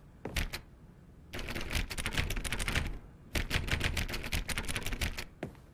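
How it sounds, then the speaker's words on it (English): Rapid typewriter-like key clatter comes in a short burst and then two longer dense runs with brief pauses between them, loud and close, with no voice. "I just make fucking typing sounds."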